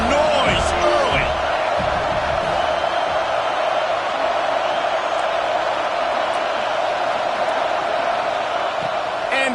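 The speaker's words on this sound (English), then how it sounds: "This crowd bringing the energy and noise early." Stadium crowd noise from a Miami vs USC college football game, a loud steady roar of cheering throughout, with a commentator talking over it.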